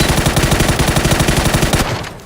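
Rapid bursts of automatic gunfire in the video game PUBG, loud and close, firing in a steady rhythm before stopping abruptly and fading.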